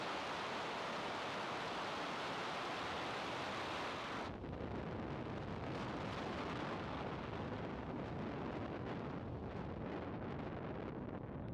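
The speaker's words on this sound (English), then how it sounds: "Ignition and lift off Falcon 9." A deep, steady rumbling roar of a SpaceX Falcon 9 rocket launch, broadband and loud, turning rougher and more crackling partway through with no voices.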